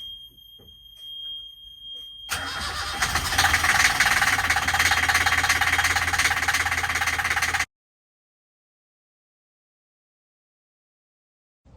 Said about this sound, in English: we're just going to start the engine